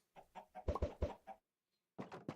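Chickens in the Minecraft video game clucking in a run of quick, clear calls, a brief pause, then another burst of clucks, close and alone without talk.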